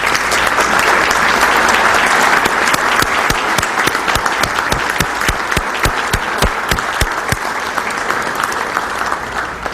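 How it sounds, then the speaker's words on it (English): Sustained applause from a room of people honoring a hospital team at a chamber of commerce breakfast, steady dense clapping for nearly ten seconds with a few sharper individual claps standing out. "Let's have a round of applause for all of them."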